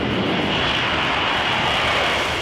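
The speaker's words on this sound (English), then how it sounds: "I'm accelerating down the runway and literally just click a button, and then the plane will take off by itself." A Marine Corps F-35B fighter jet accelerates down the runway on a short takeoff, its engine a loud, steady, broadband roar that holds close and constant with no voices.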